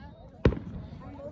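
A crackling firework bursts with one loud, sharp pop during a Fourth of July display, its broadband burst standing out over a busy background of crowd murmur and distant rumble, trailing briefly into faint crackle.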